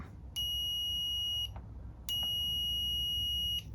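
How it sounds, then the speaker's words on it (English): Two sustained high-pitched electronic beeps from a multimeter continuity test with its leads touched together, each lasting about a second, separated by a short pause, clear and close against quiet background. "you touch them together, it should beep"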